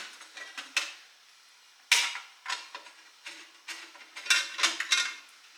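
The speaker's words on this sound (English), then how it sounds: "So you remove all these screws and this will come out." Screws being removed from the metal front panel of an adjustable bed-of-nails test fixture, close light metallic clicks, creaks and ticks in uneven bursts with short quiet gaps, no talking.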